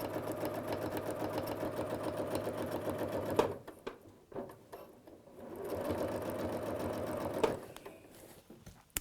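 A domestic sewing machine quilting with templates runs in two steady stitching bursts with a brief pause between, a rapid mechanical whir that stops and restarts.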